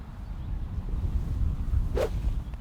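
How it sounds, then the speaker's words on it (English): A single quick swish of a golf club cuts through near the end over low rumbling background noise. "hear that swish, and look where this golf club's going to"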